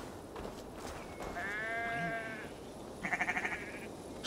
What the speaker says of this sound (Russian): Что ела эта овца?